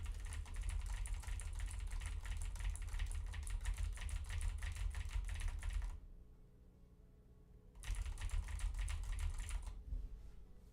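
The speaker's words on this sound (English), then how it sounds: "just real quick, can you hear the typing?" Rapid typing on a computer keyboard, a dense run of clicks over a low engine-like rumble that stops for nearly two seconds, then resumes in a second burst and fades.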